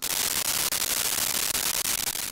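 White noise from a Dreadbox Dystopia Eurorack module, bright and harsh static hiss, loud and continuous with brief rapid dropouts where the gate cuts it.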